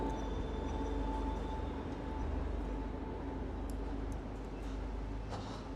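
A train rolls through the train fight scene in John Wick: Chapter 4, a quiet, steady low rumble of wheels and carriage noise, with faint clicks and squeaks on top and no talk.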